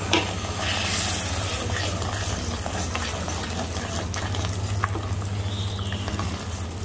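Masala paste for Kashmiri dum aloo sizzles and bubbles in a pan after a splash of water, a steady close frying hiss with faint stirring scrapes and a low hum underneath.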